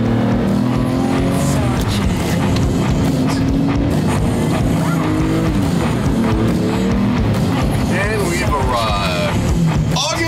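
A Lamborghini V12 sports car engine revs loud and close through gear changes, its pitch sweeping up and dropping between shifts, with voices faintly underneath.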